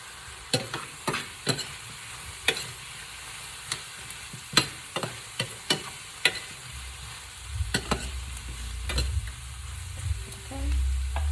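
Vegetable stir fry with coconut aminos sizzling in a pan, a steady frying hiss punctuated by rhythmic spatula taps and scrapes, with a low rumble building toward the end.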